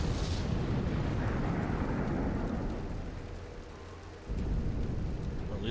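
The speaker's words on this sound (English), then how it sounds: "Well, at least the bridge is still holding after that explosion." A large explosion in the space game Star Trek Online, a loud rumbling roar that fills the clip, dips briefly, then surges back with no speech over it.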